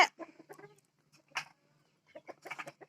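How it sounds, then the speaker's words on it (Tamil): A black native chicken (karunkozhi) clucks in short, close bursts separated by brief pauses, with no talk over it. "கருப்பு கோழி."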